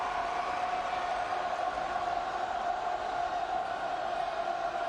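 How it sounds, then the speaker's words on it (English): Spectators at a high school boys basketball state quarterfinal roar in a steady, dense wash of crowd noise that runs unbroken throughout, loud and sustained with no single voice standing out. "Listen to their crowd. They are into it."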